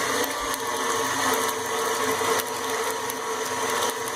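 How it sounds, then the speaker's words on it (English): An electric mixer whirs steadily through lemon square batter with egg yolks, a close, continuous motor drone with no pauses. "And then what I'm going to do is I'm going to stop the mixer"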